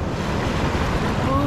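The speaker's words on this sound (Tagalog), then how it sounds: "Kasabayan lang yung alon para yung propeller hindi tumama sa bato." Ocean waves washing around a small boat near rocks off Bani, Pangasinan, heard as a loud, dense roar of surf mixed with wind buffeting the microphone, with no break across the short stretch.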